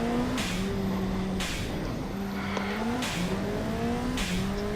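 Turbocharged car engine accelerating in the Automation video game, repeated rising engine pitch through several gear shifts, each shift marked by a sharp turbo whoosh, loud and close with no talking.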